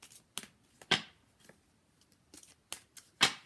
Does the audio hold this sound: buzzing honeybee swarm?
no